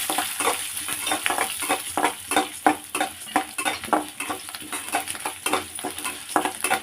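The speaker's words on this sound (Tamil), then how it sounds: "இது கொஞ்சம் பொன்னிறமாக வதங்கட்டும்." Urad dal and garlic sauté in a pan for a Tamil thuvaiyal, giving a steady close sizzle broken by frequent rhythmic scrapes and stirs of a spoon, with no voices.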